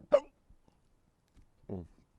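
A single sharp hiccup bursts out close and clear, followed after a pause by a short voiced sound, with near silence around both.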